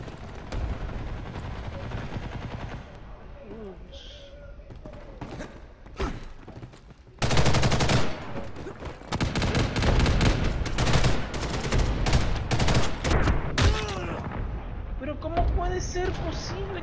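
Gunfire in the online shooter Ghost in the Shell: Stand Alone Complex – First Assault Online, with loud bursts of rapid shots and thuds running through the middle and latter half over continuous talk.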